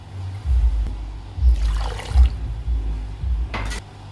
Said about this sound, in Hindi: 2 गिलास में इसमें पानी शामिल कर दूंगी।